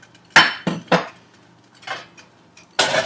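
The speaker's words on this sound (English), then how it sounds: "we're almost done getting this through the sieve" Hot cheesecake glaze made with cornstarch and sugar gets pushed through a metal sieve, giving several sharp clinks and scrapes of a spoon against mesh and bowl, separated by short pauses.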